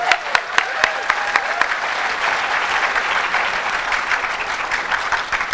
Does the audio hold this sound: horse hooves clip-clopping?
no